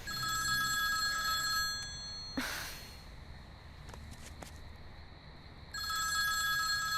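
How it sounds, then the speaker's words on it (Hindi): A telephone gives a loud electronic ring in two long bursts at the start and end. In between there is a short breathy sigh or rustle, and the sound is close and clear with no talking. "बुआ का ही फोन आ गया."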